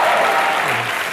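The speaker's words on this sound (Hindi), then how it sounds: "एक बार जोरदार तालियां उनके लिए।" Studio audience on the TV comedy show Comedy Nights With Kapil breaking into loud, dense applause, a brief burst of clapping throughout.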